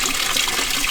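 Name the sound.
washing machine filling with water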